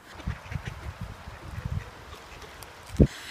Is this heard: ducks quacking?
yes